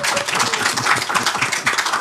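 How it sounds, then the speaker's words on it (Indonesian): A close, loud audience claps for rock legend Ahmad Albar with a brisk, rhythmic patter of hands, and voices can be heard in the mix. "Tepuk tangan buat Ahmad Albar."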